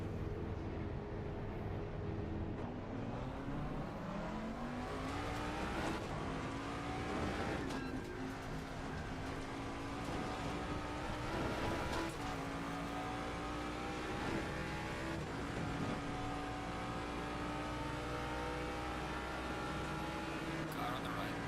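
A race car in Assetto Corsa Competizione laps a track, its engine note climbing and dropping steadily through gear shifts, with faint tyre noise and a voice talking occasionally under the continuous drone.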